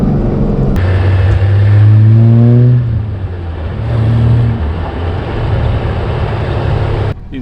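A Nissan GQ Patrol diesel pulls flat out in second gear, its engine droning loud and steady as the pitch climbs, then easing and holding at a lower note before cutting off.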